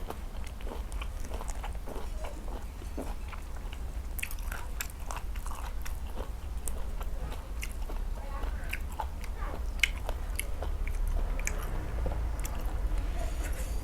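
Papaya leaves eaten with sambal chili paste, heard as close, wet chewing and crunching with soft squishy bites that repeat irregularly over a steady background hum.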